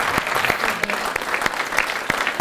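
Audience applause at a stand-up comedy roast, a dense steady clapping from a room full of people that holds for the whole stretch with a few sharper claps standing out.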